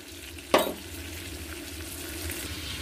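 Butter and oil heating together in a pan give a soft, steady sizzle, opened by one sharp clatter near the start and then a continuous low hiss and crackle.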